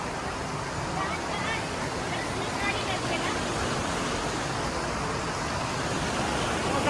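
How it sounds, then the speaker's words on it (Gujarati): A river in Châtel, France, with cold water, rushes in a continuous broadband roar, steady and close, with faint voices of people blended into the flow. "મસ્ત નદી હાલી જાય છે."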